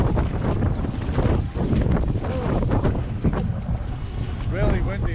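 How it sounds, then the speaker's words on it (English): Strong gusting wind of a windstorm at a marina near Lake Powell buffets the microphone with loud continuous roaring rumble, and voices talk over it throughout. "We caught in a bit of a windstorm"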